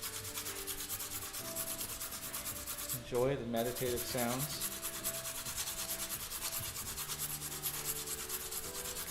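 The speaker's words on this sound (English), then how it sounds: "Get our sanding out. This is 180." 180-grit sandpaper rasps steadily back and forth over wood by hand in a close, continuous scratching rhythm, with a brief spoken remark partway through.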